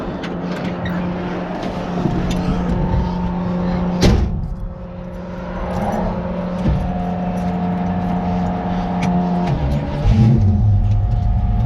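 A 1968 car idles and then pulls away from a highway shoulder, its engine rumbling steadily up close with a clunk partway through and a rising rev near the end, while other traffic passes faintly.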